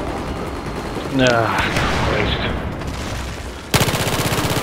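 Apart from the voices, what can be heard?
gunfire in Battlefield 4 video game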